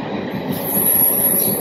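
Commuter train heading to Bangalore airport, heard from inside a half-empty carriage as a steady, close rumble of the cars running over the rails, with no talking.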